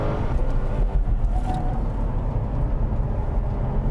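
A Toyota Mark X GRMN drives and accelerates, heard from inside the car as a steady low engine rumble and road noise with no breaks or voices.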